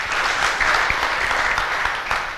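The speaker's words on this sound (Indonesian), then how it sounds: "Tepuk tangan." An audience claps in steady, dense applause for a couple of seconds, fairly loud and close, with no talk over it.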